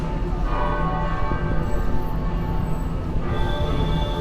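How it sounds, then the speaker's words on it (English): Trinity Church bell in lower Manhattan rings with sustained tones, heard from a double-decker tour bus over steady traffic rumble and city noise. "Oh, it's bell. It's ringing. The bell is ringing."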